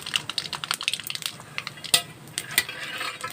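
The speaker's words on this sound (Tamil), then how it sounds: "இப்போ நெய்யில் தான் கடுகு போட்டேன்" Mustard seeds splutter in hot ghee for sambar rice, a dense run of sharp little pops and crackles close by, bursting irregularly throughout with a few louder snaps.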